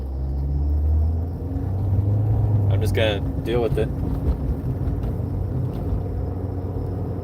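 A car cruises along the road with a steady low engine and tyre rumble throughout, while a person speaks briefly over it from inside the cabin.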